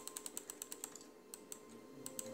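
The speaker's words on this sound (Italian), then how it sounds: "o questo è un rumore della tastiera?" Computer keyboard typing, a quiet run of crisp, evenly spaced key clicks, then a pause and a few scattered taps.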